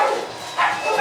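Outdoors, a dog gives a couple of short barks that sound somewhat distant and muffled, with a brief pause between them.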